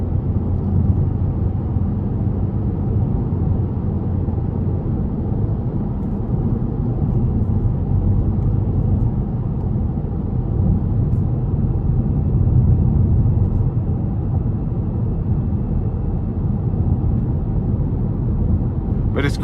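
A 2021 Toyota Corolla SE Apex with a 2.0 four-cylinder cruises steadily on a back road at about 50 mph, producing a constant low road and engine rumble from inside the cabin, with no change in pace.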